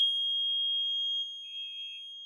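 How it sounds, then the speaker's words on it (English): A fire alarm sounds a sustained high-pitched electronic tone that holds steady and loud for the whole stretch, with slight wavering near the end and no talk over it. "that's the fire alarm."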